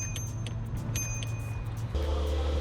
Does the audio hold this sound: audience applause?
no